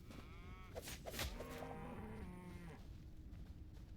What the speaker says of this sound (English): Some funny type of cow. Undead cow.